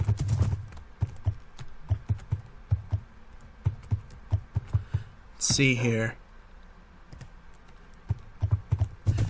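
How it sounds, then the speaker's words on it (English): Horse hooves clop in Minecraft in a quick, regular rhythm of close, crisp taps, broken midway by a brief squealing burst, with someone speaking a few words. "we need to move the horse"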